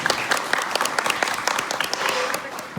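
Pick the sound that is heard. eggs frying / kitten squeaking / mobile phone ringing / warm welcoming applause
warm welcoming applause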